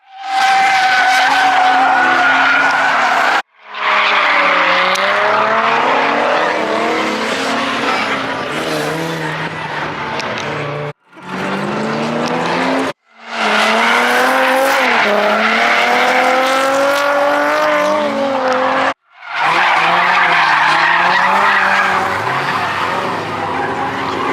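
A Ford Mustang drift car skids around a drift track in long, loud bursts of tire squeal and roaring engine, broken by a few short gaps as it slides through repeated passes.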